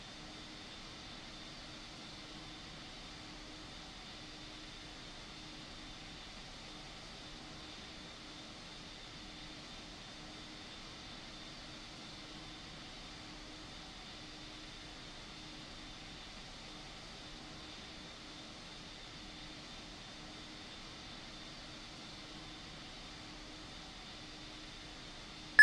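A jet airliner in the RFS flight simulator cleared for takeoff from Heathrow runway 09 right: a faint, steady engine hum and hiss with a constant tone running the whole time, even and distant without any change in level.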